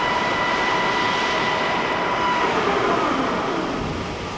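A Lion gap bed engine lathe with a four jaw chuck running, a loud, steady mechanical drone with a constant whine, close and unbroken throughout.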